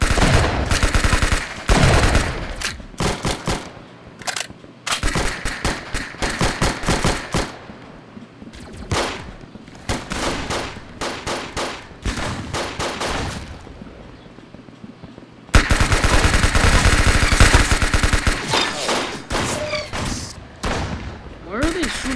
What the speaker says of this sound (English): Where are they shooting me?